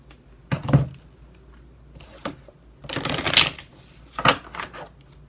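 Tarot cards are shuffled in several separate bursts of riffling and slapping, fairly close and clear. Brief quiet gaps fall between the bursts, and there is no talking.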